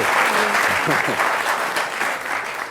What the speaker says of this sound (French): Merci d'applaudir Adèle Barbers.